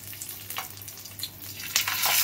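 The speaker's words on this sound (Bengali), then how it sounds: "তেলটা গরম হয়ে গেছে, এবার আমি আস্তে আস্তে পাতুরিগুলো দিয়ে দেব" Murola fish paturi wrapped in banana leaf are laid into hot oil, giving a close, crackling sizzle that swells louder over a couple of seconds, with no talking.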